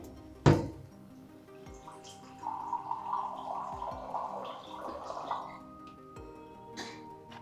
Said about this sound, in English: when we are pouring the drink, bottle should be straight like this and label visible to the guest